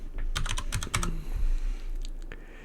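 Computer keyboard typing, a quick cluster of close key clicks, then a pause and a few scattered taps, with no talking.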